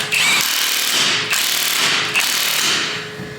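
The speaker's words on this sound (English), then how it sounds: "Just going to gun the hub nut up now" An impact gun tightens the hub nut on a crash-repaired car in a garage, giving three loud, close rattling bursts separated by short pauses, with no talking.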